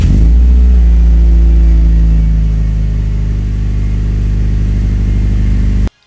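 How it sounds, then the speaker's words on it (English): A 2015-2019 Subaru WRX with a newly installed aftermarket up-pipe header starts, then runs at a loud, steady idle and fast-idle rumble for about six seconds before cutting off abruptly. "Now time to start up the car and check for any leaks."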